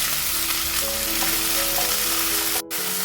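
Garlic ginger paste fries in hot oil for biryani, a loud dense sizzle with faint stirring sounds, briefly cut short near the end, and no talking.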